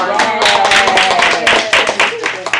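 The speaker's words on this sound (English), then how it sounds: "give yourselves a round of applause" A room of people claps together at a community meeting, a dense burst of applause running steadily for a few seconds, with some voices mixed in beneath the clapping.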